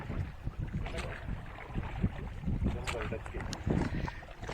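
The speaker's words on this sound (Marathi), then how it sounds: "आता बोट चालली आहे फिरण्यासाठी" A boat cruising across Bhandardara dam lake, its motor rumbling steadily with water sloshing and wind buffeting the microphone, while a person talks over it.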